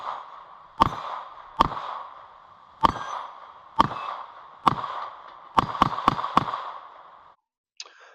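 A Springfield Echelon 4-inch pistol fires nine sharp, ringing shots outdoors, first at slow, evenly spaced intervals, then a fast cluster of four near the end, each followed by a metallic ring.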